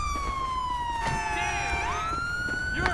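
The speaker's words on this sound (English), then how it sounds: "It won't let me cut the siren." Police car siren in the GTA 5 LSPDFR game, a loud wailing tone sweeping down and back up with a steady engine beneath, sounding continuously throughout.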